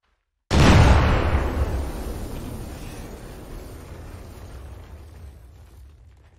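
Placed demolition charges go off in a military game operation: one sudden loud blast erupts after silence, then a long rumbling roar slowly fades over several seconds.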